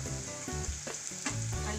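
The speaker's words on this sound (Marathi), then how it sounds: "फोडणीमध्ये धने मोठे वाटून घेतल्यामुळे छान चव येते." Coarsely ground coriander seeds sizzle in hot oil as a tempering, added after garlic-ginger and green chilli paste, giving a steady close frying hiss with a few stirring scrapes.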